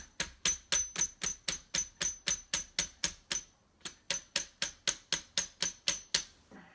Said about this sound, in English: you want to tap it on the rest of the way with your trusty plastic hammer